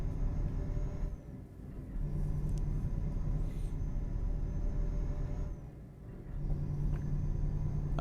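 A truck in Euro Truck Simulator 2 rolls over road patches, giving a steady loud engine and road rumble with two brief dips where the drone drops before swelling back.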